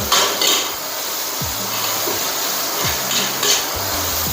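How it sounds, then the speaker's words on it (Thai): Rice is stir-fried fast in a pan, the spatula scraping in repeated strokes about every second and a half over a constant loud sizzle, with no voices. "เราเร่งไปขึ้นเลยค่ะเสร็จแล้วผัดเร็ว ๆข้าวจะเป็นเม็ดสวย"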